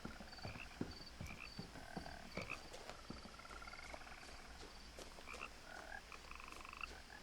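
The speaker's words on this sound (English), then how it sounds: "Also plenty of frog." Frogs croaking in What Remains of Edith Finch, a dense chorus of repeated croaks and chirps with some crickets mixed in, steady throughout at a moderate distance.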